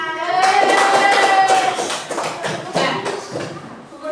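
A class of grade 4 primary schoolchildren applauds, dense overlapping hand claps filling the room, with voices and a sustained vocal tone mixed in.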